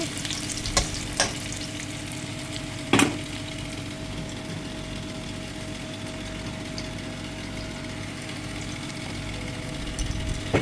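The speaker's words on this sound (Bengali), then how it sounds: "আলুটা ভেজে নিচ্ছে, আলুটা ভালো করে ভেজে নিচ্ছে।" Potatoes frying in oil, a constant close sizzle with a low steady hum beneath and a few sharp clinks of a utensil against the pan.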